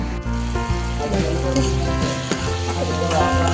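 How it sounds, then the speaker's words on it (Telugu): Bitter gourd pieces and tomato frying together in a pan with a steady, loud, continuous sizzle, punctuated by occasional scraping stirs, with no voices over it. "కాకరకాయ ముక్కలు బాగా వేగాలి."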